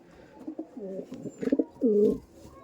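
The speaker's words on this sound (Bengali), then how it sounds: "এই দেখুন একটা পায়রা একটু ধরে একটু ছাড়ো দেখি" Laldom pigeons at a pigeon loft give a few soft, close coos, the last one longer and fuller, with no talking.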